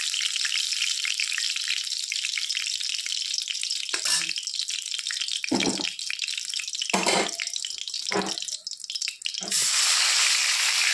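Tilapia fish pieces fry in hot oil with a steady, close sizzle, broken by a few utensil clinks and scrapes, and the sizzle grows louder near the end.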